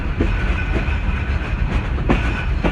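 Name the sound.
Hazara Express train arriving at Khanewal Junction station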